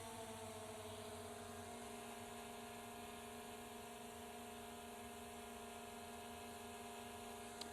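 A DJI Mini 4 Pro drone flies and descends outdoors, making a steady high-pitched buzzing whine of small propellers with sustained tones that shift slightly in pitch and hold at an even level throughout.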